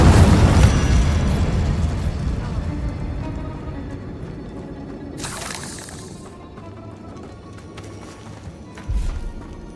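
Incendio fire spell cast in Hogwarts Legacy, a sudden fiery burst that roars loud at first and then fades, followed by a sharp crackling flare and another short hit near the end.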